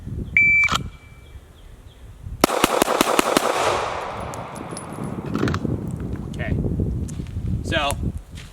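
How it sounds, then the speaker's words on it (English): Pistol shots ring out in a Bill Drill at a shooting range, a slow first shot followed by a rapid string of fast splits, sharp and close, then trailing echoes, rustling and brief talk. "So pretty slow first shot, pretty fast splits."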